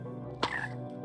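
A single frog croak from the Minecraft video game, brief and fairly clear over a steady low background hum.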